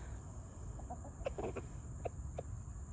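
Backyard chickens clucking and pecking at treats, a few soft, brief clucks and taps scattered over a steady background hiss, fairly faint with no talk.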